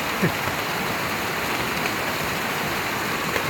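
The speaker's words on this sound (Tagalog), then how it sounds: "Tingnan nyo kung gaano kalakas yung ulan." Heavy rain hammers down in a dense, unbroken hiss, close and loud, with a few faint thuds within the downpour.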